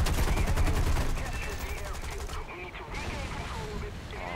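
Rapid machine-gun bursts in the aircraft combat game War Thunder, loud and dense for the first second, then easing into a lighter rattle of continued fire with engine drone underneath.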